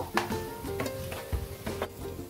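Chicken bharta is stirred and mixed in a frying pan. A utensil scrapes the pan in quick, repeated strokes over a light sizzle, close and fairly loud, with no speech.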